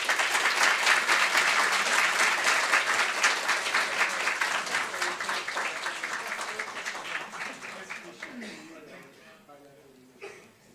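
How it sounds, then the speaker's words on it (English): A big round of applause from an audience, loud and dense at first, gradually thinning into scattered claps as voices emerge at the end. "Please give them a big round of applause."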